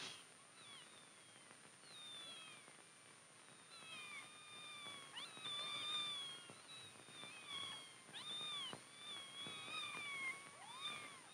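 Several kittens meow and cry continuously from inside a box, overlapping high plaintive calls that rise and fall, moderately close with a faint steady background hiss.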